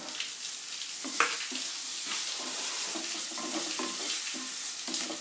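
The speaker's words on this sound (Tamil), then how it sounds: "தக்காளியை வந்து ரொம்ப பரட வேண்டாம்" Tomatoes being stirred and fried in a pan for black pepper masala pulao, with a steady soft sizzle and scattered scraping knocks of a spoon against the pan, close and continuous with no talking.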